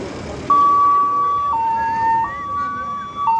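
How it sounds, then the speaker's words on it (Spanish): An antique 1981 Renault ambulance in a vintage car parade sounds its siren, steady two-tone electronic notes alternating high and low, loud and close, over faint background street noise. "Ya llegó la ambulancia."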